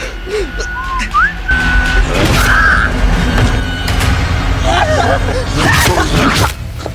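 Someone whistles a few short rising notes over a noisy, rumbling background, with voices and scuffling around them.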